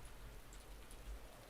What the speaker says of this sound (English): Sweet, sweet rain sound effects.